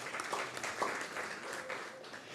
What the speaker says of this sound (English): We'll give them a clap also.